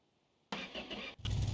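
A tow truck engine cranks and catches after a moment of quiet, turning over briefly, dipping, then settling into a loud rumbling run close by.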